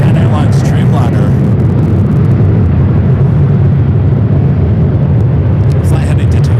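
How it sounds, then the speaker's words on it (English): Japan Airlines Boeing 787-9 Dreamliner at LAX, bound for Tokyo Narita, a loud continuous jet engine roar with a deep rumble that holds steady the whole time. "Japan Airlines Dreamliner."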